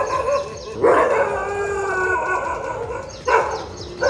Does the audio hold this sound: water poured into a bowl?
no